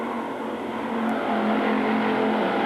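Dirt track race cars at Magic City Speedway in Billings, Montana, roar into turn one, with a loud, sustained engine drone that builds steadily and overlapping motors blending together, with no talking.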